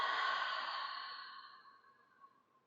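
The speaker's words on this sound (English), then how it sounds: "a conscious inhale in through the nostrils and a complete exhale out of the mouth" A slow, deliberate breath for meditation, a soft close exhale out of the mouth trailing off quietly over a few seconds, heard alone.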